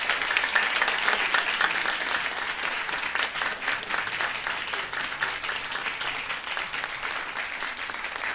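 Sustained ovation from a crowd for seven performing artists at a show, dense clapping that stays loud and even for several seconds with no speech over it.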